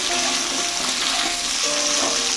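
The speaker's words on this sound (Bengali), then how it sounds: "আলুটা দিয়ে দেবো হয়ে গেলে তাকে দিয়ে দেবো বরবটি লবণটা বেশ নাড়াচাড়া করবো" Potatoes and long beans fry loudly in a pan with salt while being stirred, a dense, continuous close sizzle throughout with faint scraping movements.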